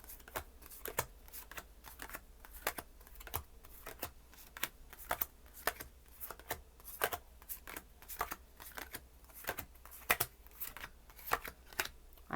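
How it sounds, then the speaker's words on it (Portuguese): Oracle cards shuffled and separated by hand, a steady run of crisp riffling flicks and soft slaps repeating close up for the whole stretch, with no talking. "Antes de eu embaralhar, sair embaralhando, eu faço essa separação."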